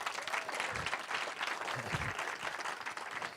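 Steady, dense applause from a seminar audience in Eswatini, many hands clapping together at moderate volume throughout.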